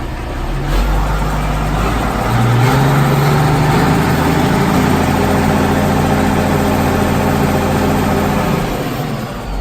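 A used tractor engine cranks and catches, then settles into a steady, loud diesel-like running rumble close by, with a slight rise in revs partway through and no talking.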